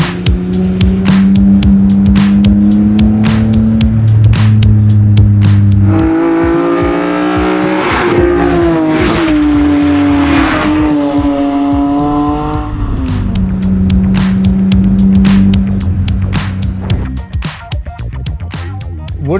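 A BMW E30 with a swapped-in S54 engine revs hard while being driven, rising and falling through the gears with loud, sustained engine tones, heard close from inside the car.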